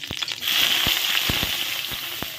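Black cumin and green chilies frying in hot oil in a kadai, with a continuous sizzle and scattered sharp pops and crackles, close and fairly loud.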